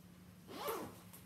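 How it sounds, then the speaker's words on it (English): A zipper on a Vera Bradley bag is pulled open in one quick, soft rasping stroke, close up and quiet, with no talking. "I do like the double zippers."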